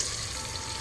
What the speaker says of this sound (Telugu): అలా ఘాట్లు పెట్టేసుకొని అన్నింటికి దాంట్లో వేసేసుకొని వేయించుకోవడమే